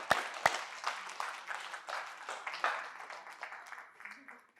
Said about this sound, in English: Give yourself a little round of applause.